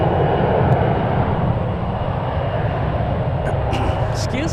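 Boeing 787 Dreamliner airliner engines roar at San Francisco airport, a broad, loud, steady rumble that carries on without a break, with a few faint higher clicks near the end.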